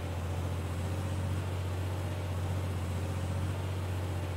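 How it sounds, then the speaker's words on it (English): A tractor engine under load while hauling a full trailer of wheat in Farming Simulator 22 gives a steady, loud, low drone with a constant hum and no change in pitch, and no voices. "Puts the engine under load"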